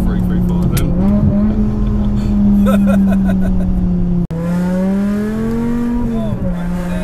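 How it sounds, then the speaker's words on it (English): A supercharged 5.2-liter BMW E60 M5 engine holds a loud, steady high rev, wavering slightly in pitch, with a brief dropout midway before the roar resumes. "That just don't stop revving, does it?"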